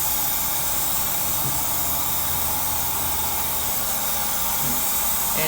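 A paint sprayer hisses in a loud, unbroken, close-up spray while coating wooden trim with wood primer, with no voices over it.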